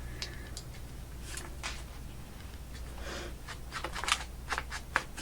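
Scissors snip paper for a shabby-style purple garden journal, making quiet irregular crisp cuts and rustles up close, with a few sharper snips toward the end.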